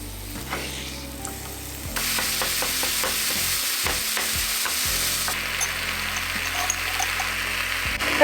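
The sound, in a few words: frying meat with taco spice mix in pan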